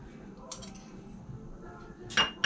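A tablespoon scrapes leftovers out of a container, giving soft clinks and a sharper metallic knock near the end, close and fairly quiet over a low room hum.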